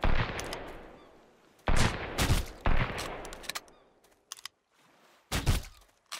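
Gunfire in a survival video game, with several sharp, loud bursts of shots spread through the span, separated by quieter stretches of game ambience.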